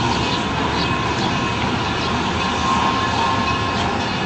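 The Durango and Silverton steam train rolls into the station with a continuous loud rumble and rushing roar, close by and unbroken throughout.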